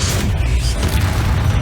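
A loud, deep blast from the Confringo spell in the video game Hogwarts Legacy, a heavy rumbling boom with crackling debris that fills the short moment without letup.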